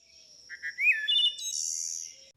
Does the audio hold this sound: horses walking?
no